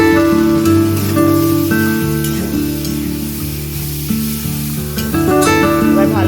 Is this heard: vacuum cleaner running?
no